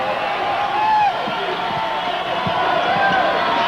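Basketball crowd at the Pan Am arena cheering and murmuring steadily throughout, with a few sharp ball bounces and a commentator talking over it.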